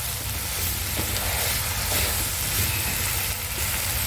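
Cumin powder stirred into hyacinth beans and shrimp frying in a pan: a constant close sizzle with a dense hiss, plus faint scraping stir strokes underneath.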